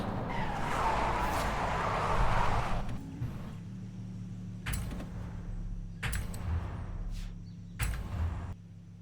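A Mercedes AMG CLK GTR racing on the Emerald Race Circuit in Forza Horizon 5: a loud engine roar and tire noise at first, then a quieter steady drone broken by several sharp bursts, with no talk.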